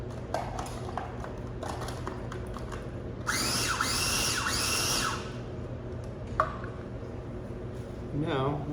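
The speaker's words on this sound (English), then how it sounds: "They're rechargeable, but they're pepper grinders and salt grinders, but they're electric" Electric rechargeable pepper and salt grinders whir in a short burst of about two seconds, a close buzzing grind, with people talking and light kitchen clatter before and after.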